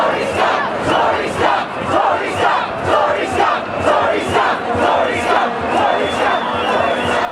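A protest crowd of thousands surrounding 30 Millbank, chanting loudly in a regular rhythmic cadence, the massed voices pulsing in repeated shouted beats close by.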